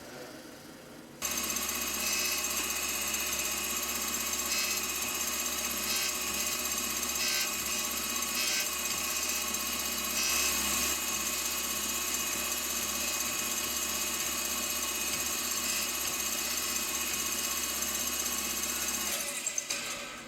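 Continuous grinding of a cosmetic radius on a shopmade micrometer part, a steady machine whine with metal contact that runs unbroken for most of the span after starting abruptly, with no talking.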